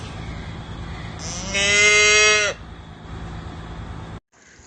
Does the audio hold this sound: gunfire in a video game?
no